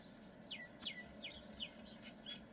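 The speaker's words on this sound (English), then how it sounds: "I hear the birds. The birds are merry." Small birds chirp faintly outdoors, several short sweeping tweets spaced about half a second apart over a soft background hum.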